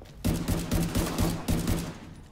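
Gunshots from an M700 in The Division 2 video game, a rapid burst of about a dozen loud, evenly spaced shots in two close runs, then fading.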